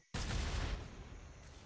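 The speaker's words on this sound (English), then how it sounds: "Blow up a barrel." A barrel blowing up in Metal Gear Solid 3, a sudden loud blast that rolls into a rumbling, crackling burst of gunfire and debris before slowly fading.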